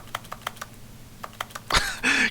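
Computer keyboard keys tap in a quick irregular run of about nine clicks, followed by a louder clatter and a brief rustle, close up with no talk.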